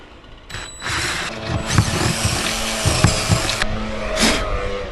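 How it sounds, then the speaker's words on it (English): Power drill boring a hole through a Renogy flexible 350-watt solar panel on a Promaster van roof, a whirring, grinding drone with brief pauses and bursts, fairly close and steady. "ream it out with the drill straight up and down"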